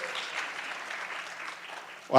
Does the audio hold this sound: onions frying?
no